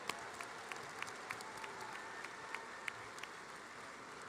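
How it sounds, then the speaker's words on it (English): A crowd at a university commencement applauds the EWU Brass Ensemble, a faint, distant, steady patter of clapping in a large hall, with a few sharper individual claps standing out. "Give them a round of applause."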